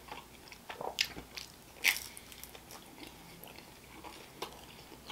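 Biting and chewing wood-fired pizza crust, close and quiet, with a few sharp crunchy bites followed by softer chewing and no talk.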